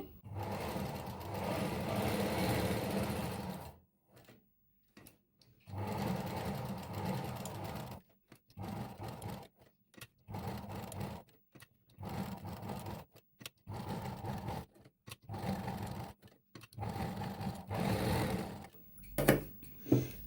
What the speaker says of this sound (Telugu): ఇప్పుడు మొత్తం కర్వ్స్ అన్నీ నీట్గా క్యాన్వాస్ పక్క నుంచే స్టిచ్ చేసుకుందామండి